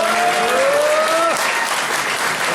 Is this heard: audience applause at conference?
yes